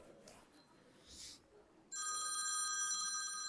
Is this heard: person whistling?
no